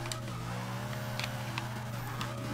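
A car engine held at full throttle in Forza Motorsport 6 gives a steady, loud droning roar with a strong low hum and faint intermittent clicks throughout.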